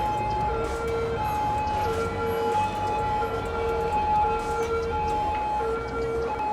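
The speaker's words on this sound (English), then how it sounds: "God, those sirens are terrible, right?" Emergency sirens wail steadily over city street traffic, sustained held tones lasting throughout, loud and continuous above a rumbling traffic background.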